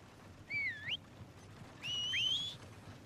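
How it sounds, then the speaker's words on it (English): Two rising whistles call horses in the Red Dead Redemption 2 video game. Each is a short, clear two-note whistle that sweeps upward, separated by a brief pause, over faint low background noise. "We've all got the same whistle for our horses."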